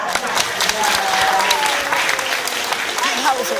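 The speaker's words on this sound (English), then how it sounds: "a big clap on this last one" Audience at a parrot show at Pleasurewood Hills, Great Yarmouth, bursts into sustained, dense applause, loud and continuous, with a voice talking over it and a few bird whistles.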